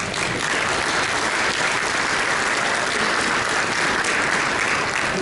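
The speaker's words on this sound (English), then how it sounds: "Let's give her a round of applause." Steady audience applause at a golf organization's town hall meeting, a dense continuous wash of many hands clapping throughout, fairly loud and uniform with no speech over it.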